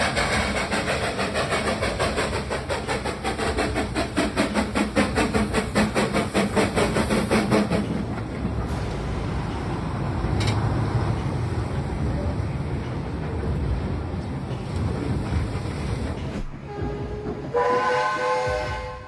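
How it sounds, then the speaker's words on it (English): A Santa Corsa train travelling from Moscow to Velikiye Luki rumbles steadily and loudly with rhythmic clatter, and a whistle sounds near the end over the running noise. "Footage of the Santa Corsa train traveling from Moscow to Velikiye Luki."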